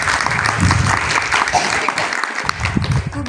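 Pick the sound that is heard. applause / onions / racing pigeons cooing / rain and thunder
applause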